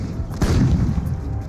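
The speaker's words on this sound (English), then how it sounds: "It begins with an artillery barrage by 700 Allied guns." A deep, rolling boom of an artillery barrage from 700 Allied guns rumbles on continuously, one blast merging into the next like a distant barrage.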